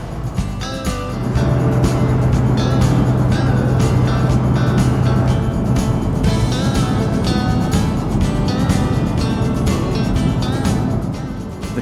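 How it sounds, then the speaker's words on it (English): Chevy Cameo pickup truck cruising with the windows rolled down, a steady engine drone and road rumble filling the cab, loud and continuous, with rushing air and no talking. "The Cameo with the windows rolled down, the distinctive sounds of a truck filling the cab"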